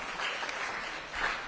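Audience applause at an Orange County town hall, a brief, moderately quiet spatter of clapping that swells again toward the end, with no voices over it.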